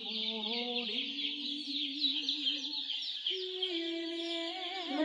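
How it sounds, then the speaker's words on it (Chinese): Young black-feathered chicks being raised in a coop peep and chirp continuously, with many small voices overlapping near the listener; no one speaks. "都听到这个小鸡就在这里叫了"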